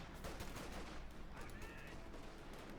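Rifle and machine gun fire from a Company of Heroes 2 battle in which Riflemen carrying BARs fight advancing Stormtroopers and Grenadiers. The gunfire forms a dense, continuous crackle of shots mixed with battle noise for the whole stretch.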